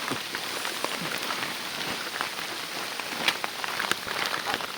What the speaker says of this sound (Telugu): వర్షం అయితే బీభత్సంగా అయితే వచ్చేసింది